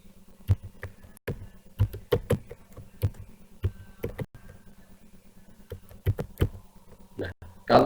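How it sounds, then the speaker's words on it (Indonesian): Keystrokes on a computer keyboard tap out in irregular bursts during a Webex Meeting setup, sitting under a low steady hum, with a voice speaking faintly nearby. "Kemudian kita suruh ngetikkan lagi yang tadi kita ketikkan."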